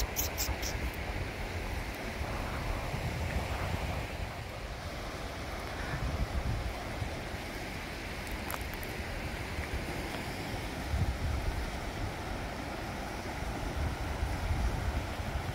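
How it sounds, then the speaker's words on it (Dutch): Sea waves roll onto the beach at Bredene in a steady, broad wash of surf mixed with gusty wind noise on the microphone, continuous for the whole stretch with no clear breaks. "Dat is een zee."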